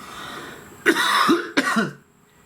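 Two sharp coughs close to the microphone, one after the other, in an otherwise quiet room.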